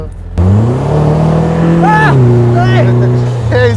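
A custom Vanderhall three-wheeler's engine surges loudly up close, its rising and falling revving tones shifting through gears as the car accelerates, with people's voices heard beneath the motor.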